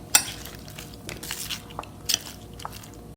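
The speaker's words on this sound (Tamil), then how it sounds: "போட்டு நல்லா மசாலா உள்ளே இறங்குற மாதிரி கலரி விடுங்க." Paneer cubes and capsicum being stirred into a masala marinade with a spoon in a bowl, soft wet squishing and a few sharp clinks of the spoon against the dish, quiet and close, with no voices.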